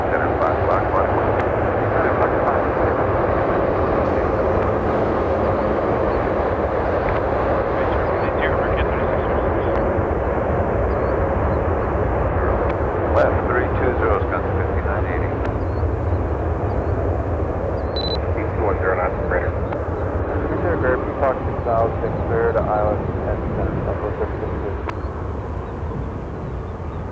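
A jet airliner takes off from runway 9 center at Chicago O'Hare, a loud sustained roar of engines that slowly fades, while air traffic control radio chatter talks over it.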